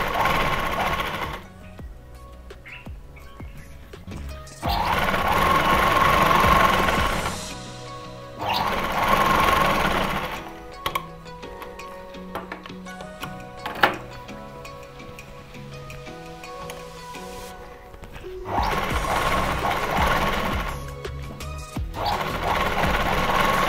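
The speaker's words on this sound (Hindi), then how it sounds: "एक सिलाई लगाएंगे इसके बीच" A sewing machine stitches a Patiala salwar suit in bursts of rapid, steady mechanical whirring, with quiet pauses between runs and occasional clicks as the fabric is repositioned.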